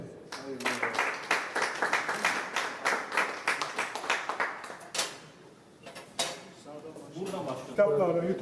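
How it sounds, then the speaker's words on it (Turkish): Audience applause at a ribbon cutting ceremony opening a photography exhibition, a burst of dense clapping lasting several seconds that fades out, followed by someone speaking. "Alkışlarınızı efendim."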